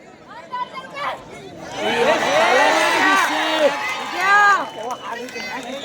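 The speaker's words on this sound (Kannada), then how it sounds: "ಹರಿಯಾಣ ತಂಡದ ಅಭಿಮಾನಿಗಳು ಪ್ರತಿಯೊಂದು ಅಂಕಕ್ಕೆ ಕೂಡ ಕೈ ಬಿಚ್ಚಿ ಚಪ್ಪಾಳೆಯನ್ನ ತಡ್ತಾ ಇದ್ದಾರೆ." Haryana supporters clap and cheer at a women's final match between Gurukul Academy Haryana and ITBP. A lively crowd roar swells with shouts and chatter, loud and close, rising in the middle and easing toward the end.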